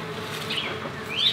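Bees buzz steadily around an azalea bush in a garden, a close, continuous insect hum that swells slightly near the end, with no talking.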